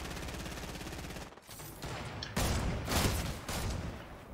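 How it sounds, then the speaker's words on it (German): Sustained rattling gunfire from a Fortnite match, rapid bursts continuing with a brief gap before heavier, louder volleys resume, moderately distant and dense. "Ich werde von hinten angeschossen."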